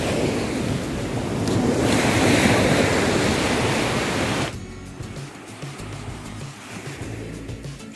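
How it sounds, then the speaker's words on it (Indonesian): Surf rushes onto Bangsong beach in Malang, a loud continuous roar of breaking waves that swells and then drops to a softer wash, with wind noise on the microphone. "Kita sudah sampai di pantai Bangsong."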